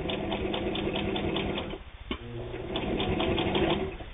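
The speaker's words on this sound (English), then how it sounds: "Okay, sews it with ease." A New Home electric tabletop sewing machine stitching through thick stacked fabric layers, a steady fast mechanical whirring and rattling, close up, with a brief dip in the middle before resuming.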